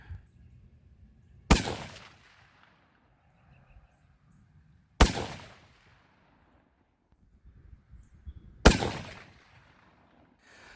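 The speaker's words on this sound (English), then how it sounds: "we're going to shoot these hand loads" Three sharp, loud rifle shots from a 7mm-08 firing hand loads ring out a few seconds apart outdoors, each a hard crack followed by a short rolling echo, with quiet between them.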